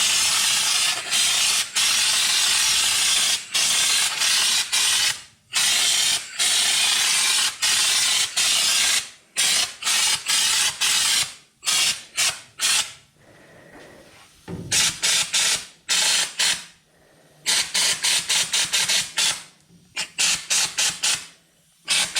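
A spray gun hisses in repeated bursts while laying red epoxy inside the body of a 1969 Ford Mustang Mach 1, each pass a loud close blast separated by short pauses.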